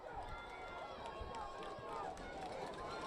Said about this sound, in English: You hear the crowd getting behind it.